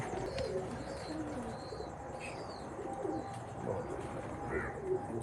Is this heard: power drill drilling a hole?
no